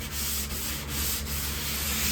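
A sponge rubbing wet plaster makes a steady, gritty scrape repeating in short strokes, close and fairly loud, with no voices.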